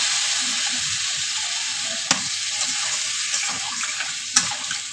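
Vegetarian potato curry sizzles loudly and steadily in a hot pan as a little water is added, with a couple of sharp spatters standing out above the constant frying hiss.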